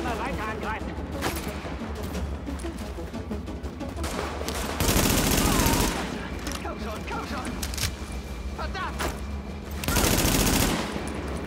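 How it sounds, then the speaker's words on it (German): Automatic rifle fire in the video game The Division, short bursts of rapid gunshots recurring every few seconds, loudest around the middle and end, over constant in-game background noise. "Immer eine Salve abgeben und in Deckung gehen."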